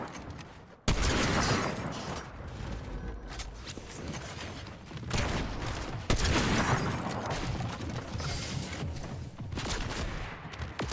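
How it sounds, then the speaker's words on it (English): Continuous gunfire and mechanical clatter from a Fortnite battle, with a lock-on pistol among the weapons in play, loud and dense throughout with several sharp bursts. "Lock on pistol."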